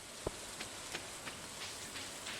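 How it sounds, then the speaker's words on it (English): Rain falling in the video game Stardew Valley: a faint, steady hiss with a few soft, scattered drop taps and no voices. "it's raining in Stardew Valley"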